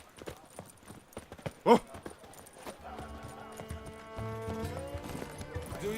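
Roach, a horse in The Witcher 3, trots along with steady rhythmic hoof clip-clops, a brief snort or neigh early on, then music swelling beneath, with a short exclamation from a voice.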